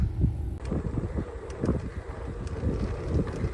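Gusty wind buffets the microphone in uneven low rumbles and thumps for a few seconds, with no other clear sound, outdoors near Horseshoe Lake in Olive Branch, Illinois.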